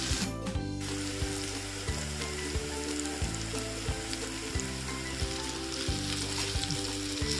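Jackfruit shawarma filling fries in a pan, a dense, continuous close sizzle and crackle with a low steady hum beneath it throughout.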